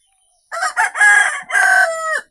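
A rooster crows loudly and close in a village poultry farm with a caged flock of native chickens, one long strained cock-a-doodle-doo with a couple of short starting calls, standing alone with no talk.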